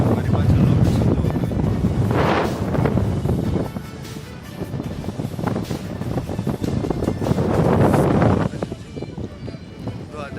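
Strong wind gusts hard across an outdoor spot, buffeting the microphone with a loud, rumbling roar that rises and falls over several seconds while people talk underneath.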